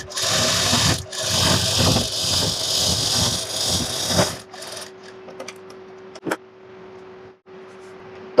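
A sewing machine stitches the seams of straight, loose palazzo pants with a steady, close mechanical whir for about four seconds. It then stops, leaving faint handling clicks and rustles.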